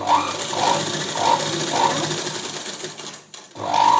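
A sewing machine with a normal presser foot stitches thread piping. Its needle whirs steadily with a regular rhythmic pulse, runs close and loud, pauses briefly, then starts again.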